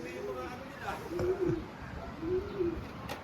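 Racing pigeons cooing softly in a loft, two drawn-out low coos a second apart, moderately close over steady background hiss, with people talking nearby.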